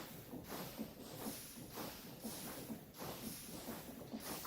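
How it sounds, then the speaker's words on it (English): A steady steam engine in a factory-building video game hisses as a continuous broadband rush, with soft rhythmic pulses repeating about every half second at a constant level and no talking. "Steam engine just sounds like this."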